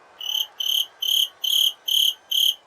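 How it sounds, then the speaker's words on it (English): A cricket chirping sound effect plays during a fantasy football video game broadcast, with six evenly spaced, bright chirp bursts in a steady rhythm, clear and alone. "yes, we could bring out the crickets."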